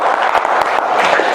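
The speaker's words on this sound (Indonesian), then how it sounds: "Tepuk tangan dulu untuk Warni" Applause for a student in a classroom: a brief burst of clapping from a small group of classmates, dense and steady, close by.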